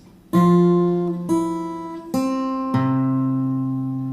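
An acoustic guitar sounds four ringing notes and chords, each plucked cleanly and left to sustain, low bass tones under brighter strings, played alone.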